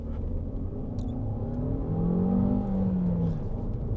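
A 2017 Fiat Tipo 1.4 turbo petrol accelerates through first and second gear, the engine note rising in a moderate whirring pull, dipping at the shift and climbing again, heard from inside the car.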